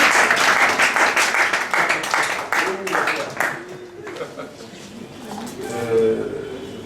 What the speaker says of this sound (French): Est-ce qu'on peut l'applaudir pour son mensonge?